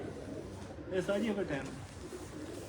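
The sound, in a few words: pigeon cooing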